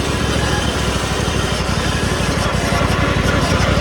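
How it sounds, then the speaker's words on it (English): A racing lawn mower engine runs loudly and close, a steady buzzing drone with a rapid pulsing rhythm at full throttle. "The engine is running great as well."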